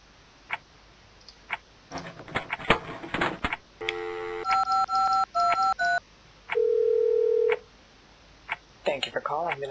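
A telephone keypad in a phone-booth escape video game beeps through a quick run of dialing tones, followed by a longer steady tone. Clicks and scattered noises come before and after, and a voice speaks in the background.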